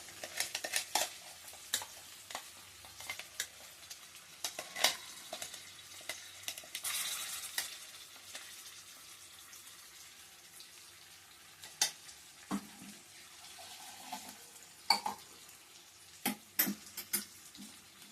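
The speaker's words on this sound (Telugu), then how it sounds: "అల్లం వెల్లిపాయ పేస్ట్ కొంచెం ఆయిల్లో ఫ్రై అయిన తర్వాత" Ginger-garlic paste fries in oil with a soft sizzle throughout, punctuated by sharp clinks and scrapes of a utensil against a pan at irregular intervals; no voices.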